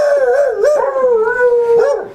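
Farm dogs at a rural Colombian homestead with chickens howl together in a sustained, wavering chorus, loud and close, with pitch rising and falling over about two seconds and no talk.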